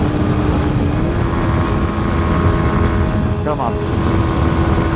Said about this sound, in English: Just gonna have to keep it revving, I think.